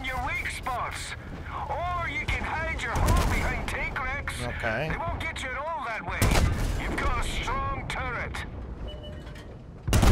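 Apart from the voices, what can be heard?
tank cannon shots in video game World of Tanks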